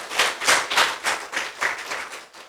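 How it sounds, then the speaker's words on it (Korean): Audience applause at a special security lecture, a brisk run of hand claps with distinct individual slaps, fairly close and loud, with no talking over it. "큰 박수를 한번 올려주시기 바랍니다"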